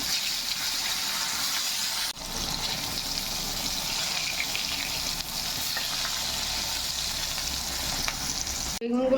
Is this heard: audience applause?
no